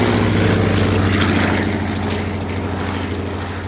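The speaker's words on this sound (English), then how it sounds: "the last pass of the Boeing Stearman" A Boeing Stearman biplane makes its last low pass at an airshow, its propeller engine a loud, close droning roar that slowly fades as it moves away.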